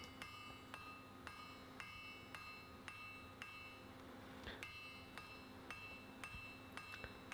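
Hot metal hammered on the flat face of an anvil while forging a Sutton Hoo chain element, with regular ringing hammer blows roughly every half second, fairly close, over a low background hum.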